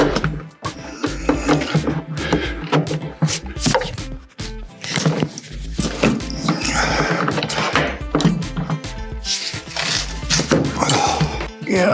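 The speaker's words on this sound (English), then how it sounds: "Now I'll get that last seat belt buckle out." Someone removes a seat belt buckle from a Porsche 914 during an interior tear-down, with close, clanking metallic knocks, rattles and scraping tool sounds in irregular bursts, broken by short pauses.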